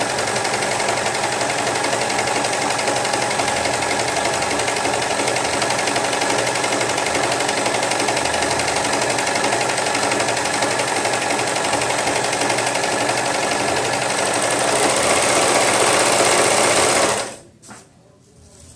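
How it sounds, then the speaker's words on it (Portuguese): An overlock sewing machine finishes a shirt hem with a loud, continuous high-speed whirring that runs steadily for about seventeen seconds and then stops abruptly. "Vou passar aqui a overlock na barra."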